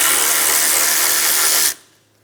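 A power tool spins a 10mm socket to remove a bolt from a radiator bracket on a 2007-2012 Nissan Altima, a steady loud whir that stops abruptly, leaving quiet.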